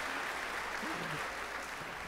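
An audience applauds at a speaking event, a dense, steady wash of clapping lasting about two seconds.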